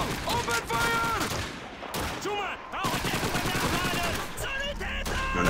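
Gunfire in the PC game Call of Duty 2 during a Russian campaign battle, with rapid bursts of rifle and machine-gun shots crackling over a din of battle while voices shout orders.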